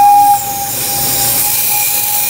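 A wood-fired, steam-powered replica of an old paper factory machine gives a sharp whistle-like tone that cuts off quickly, followed by a continuous loud hiss of steam.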